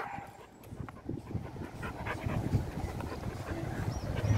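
A four-month-old German shepherd puppy pants in rapid, continuous breaths outdoors, with faint background sounds and a few whimper-like tones.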